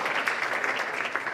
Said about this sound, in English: There's a big applause for him.